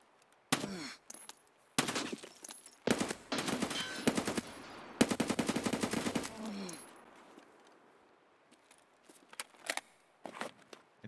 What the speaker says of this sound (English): He's using an AK.